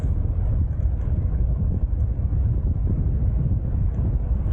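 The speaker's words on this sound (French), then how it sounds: "Toujours autant de vent." Strong wind buffets the microphone during a bicycle ride near Guyancourt-sur-Noye, France, with a loud, continuous low rumble that rises and falls slightly, with no speech.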